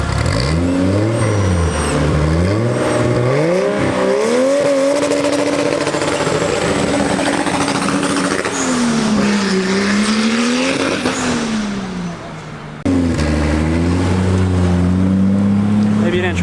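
A Honda Civic with a swapped-in Toyota 2JZ engine is driven hard, revving loudly and repeatedly through rising and falling sweeps. A brief drop in engine noise comes near the end, and voices are faintly audible inside the car.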